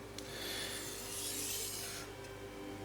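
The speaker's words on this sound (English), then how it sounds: "take my knife, put it in the top right hand corner, and come down the whetstone at a 15-degree angle 10 times" A Zelite Infinity knife slides down a wet whetstone at a shallow angle, giving a soft, sustained gritty rasp that swells and fades within one long stroke, faint and close, with a tiny clink at each end.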